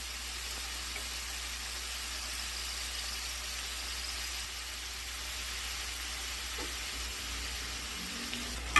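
Shrimp sizzle steadily in a hot pan, a soft, even frying hiss that runs continuously with a brief clatter near the end.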